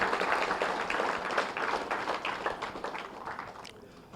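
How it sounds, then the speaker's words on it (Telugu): Audience applause for a spiritual teacher at a gathering, a dense wash of many hands clapping steadily for about four seconds, tapering slightly near the end. "గట్టిగా చప్పట్లు కొడదాం"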